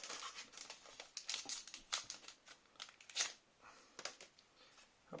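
A Pokémon card booster pack wrapper being torn open and handled, with close, quiet crinkling and ripping of foil in irregular bursts, no talking.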